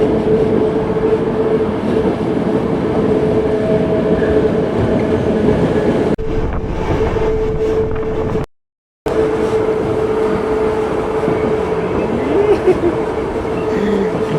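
The Train Jaune, the yellow train of the Pyrenees, rumbles along at a loud, steady pace with a constant hum and rail noise, a brief dropout partway through.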